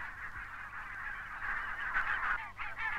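Barnacle geese (Branta leucopsis) call in a steady chorus of nasal honks, continuous flock chatter with several sharper yelps standing out near the end, moderately close.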